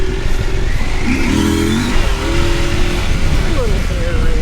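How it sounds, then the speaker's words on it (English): A Husqvarna Norden 901 Expedition motorcycle engine rumbles and revs loudly up close while riding, with a shifting exhaust note that rises and falls over four seconds. "that exhaust note off this engine is just, oh, love it, love it."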